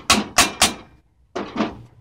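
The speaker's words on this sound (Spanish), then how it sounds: "Quiero que vea ahí cómo se martillaría esta lámina." A metal sheet is hammered onto a dented door: three quick sharp blows, a pause, then two more, close and loud.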